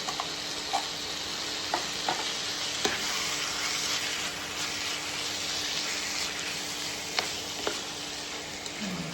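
Tomato paste stirred in a frying pan while making chicken fajitas gives a steady, close sizzle with scraping strokes and occasional clicks of the utensil against the pan, and no voices.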